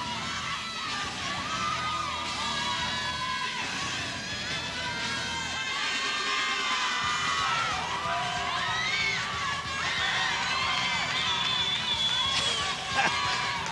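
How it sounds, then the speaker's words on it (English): Crowd at a 2004 aerobic gymnastics world championship cheering and whooping loudly during an individual men's routine, shouts and screams rising over background music. "this crowd is really going for it. You can hardly hear the music above them."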